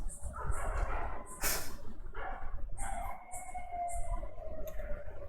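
Dogs bark in several short, sharp bursts spread across a few seconds, fairly distinct over a steady low background hum.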